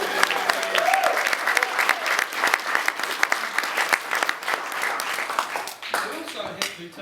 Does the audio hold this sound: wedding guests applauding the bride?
yes